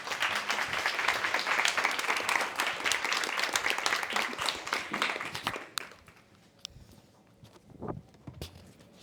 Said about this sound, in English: Just another massive round of applause again.